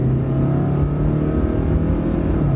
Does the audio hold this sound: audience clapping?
no